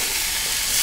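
Spinach thoran frying in a pan over a high flame, a dense continuous sizzle and hiss heard close up for under a second, with no voices.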